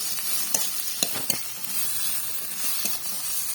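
Salt and turmeric sizzle in hot frying oil in a home kitchen while a spoon stirs, with a steady hiss broken by a few sharp scraping clicks against the pan; no one speaks.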